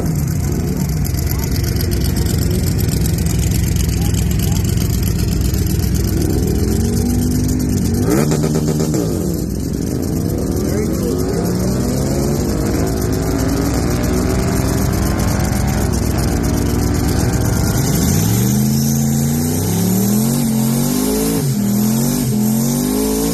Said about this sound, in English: Some burnout there.